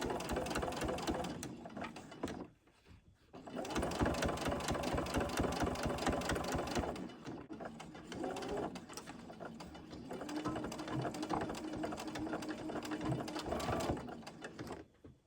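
Sewing machine stitching a chapstick holder, a steady fast mechanical whirring run that stops briefly, restarts for a long stretch, pauses again and resumes, loud and close with no talking.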